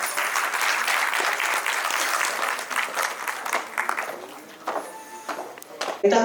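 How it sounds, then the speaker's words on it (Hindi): An audience at a women's empowerment event claps loudly in dense, sustained applause that thins into scattered claps near the end, with a few voices mixed in. "लेकिन तालियां अभी बजनी चाहिए भाई अपने लिए"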